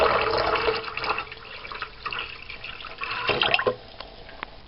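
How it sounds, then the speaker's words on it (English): Water poured from a container into the tank of a Gaggia Cubika coffee machine, a soft continuous splashing and trickling stream with faint gurgles, close and fairly quiet. "I don't want you guys just to watch me fill up a coffee machine. So just show you, it's literally just pour in."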